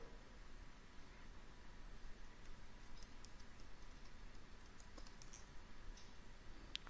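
Faint mouse clicks in a computer program, a few sparse, isolated ticks spaced irregularly over a steady background hiss, with no voices.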